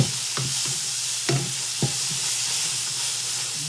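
An avocado omelette cooks in a pan with a constant hissing sizzle, broken by a few soft knocks and scrapes from a utensil, close by and without voices.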